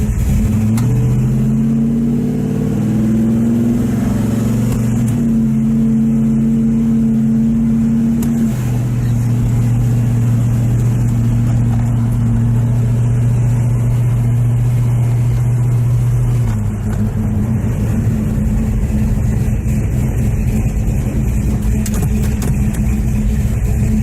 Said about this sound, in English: Big car like this, you can't really tell how fast you're going